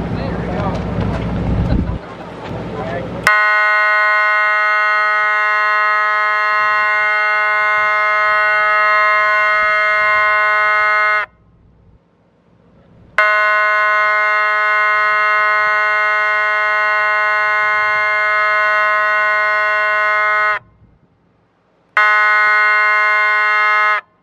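Edwards Duotronic electronic siren sounding at SirenCon 2022, steady loud horn tones that cut off abruptly between blasts, after brief talk and noise at the start.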